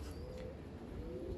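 Racing pigeons arriving home after a 100 km race in a strong tailwind coo in a low, steady murmur close by, with constant wind noise underneath and no talking.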